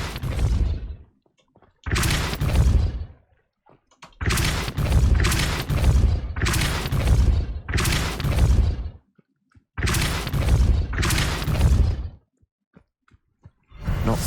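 Depulso spell impacts in Hogwarts Legacy land as a series of loud, close booming blasts in clusters, each with a sharp attack and short rumbling tail, separated by brief near-silent gaps.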